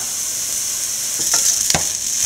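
Minced chicken sautéing with turmeric, chili powder and pepper in a pan for chicken cutlets, a steady hissing sizzle with a couple of brief stirring scrapes near the end, close and loud.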